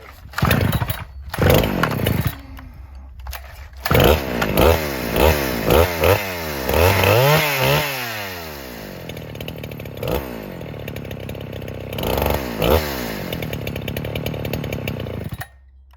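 New NeoTec NH895 chainsaw, a Husqvarna 395xp clone, starting for the first time: a few short pulls and bursts, then loud close revving that rises and falls in repeated sweeps and settles into a high idle.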